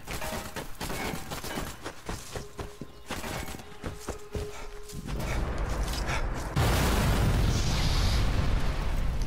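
In Sniper Elite 4, a train is blown up: a string of sharp pops and bangs gives way to a loud, sustained roaring blast that swells and holds to the end.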